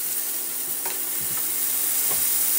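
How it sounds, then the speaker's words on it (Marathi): A boiled, spiced potato mixture fries in a pan with a steady, close sizzle, broken by a few light stirring scrapes and no voices. "तर हे मी मिश्रण फ्राय करून घेते।"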